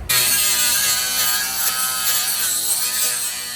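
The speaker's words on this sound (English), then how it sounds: "We're grinding some paint down so we can weld the fifth wheel to the" An angle grinder buzzes loud and close as it strips paint from metal before a fifth wheel is welded on during an R Model truck restoration, a steady high-pitched whine that starts abruptly and holds for several seconds.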